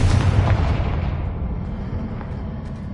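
A Confringo blasting spell going off in the Hogwarts Legacy video game, a loud, deep explosive boom with a rumbling tail that slowly fades over a few seconds.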